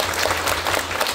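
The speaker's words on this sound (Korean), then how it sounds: "하나님 앞에 영광의 박수 한번 쳐요." A church congregation breaks into brief applause, a dense burst of many hands clapping together for about a second.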